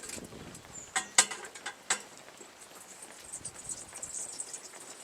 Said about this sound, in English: Just pop this cylinder in here, close that.